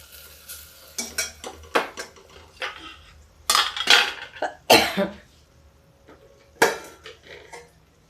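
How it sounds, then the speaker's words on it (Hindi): A pot of jackfruit curry being covered with a lid, giving a series of close metallic clanks and clatters separated by short quiet gaps, over a faint background hum. "थोड़ी देर के लिए ऐसे ढक देते हैं इसको।"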